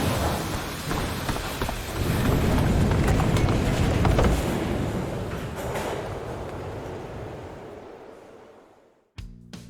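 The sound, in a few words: train at a train station in Tony Hawk's Underground video game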